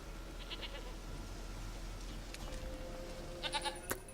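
A goat in The Witcher 3 gives a few short, close bleats near the end, over a low, steady game ambience.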